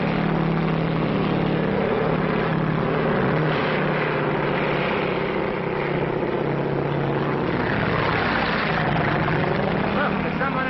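A propeller airplane drones steadily, loud and close, with its pitch shifting slightly as it passes; voices are faintly mixed in.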